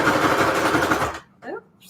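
A sewing machine running a zigzag stitch at 2 length and 5 width on paper strips over tags, a fast, rapid mechanical chatter that stops abruptly about two-thirds of the way in, followed by a brief voice.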